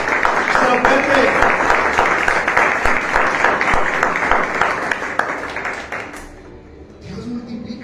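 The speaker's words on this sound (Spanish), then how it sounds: "Denle un aplauso al Señor." A church congregation applauds loudly and steadily during a Spanish-language sermon by a pastor, with dense clapping mixed with voices and shouts, thinning out near the end as a voice comes back in.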